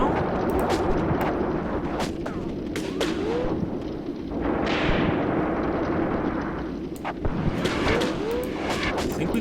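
Soviet machine guns in the WW2 tactical game Graviteam Tactics Mius Front fire in dense, continuous bursts over a rumbling battlefield din, with distant artillery thumps and tracer-heavy gunfire crackling throughout.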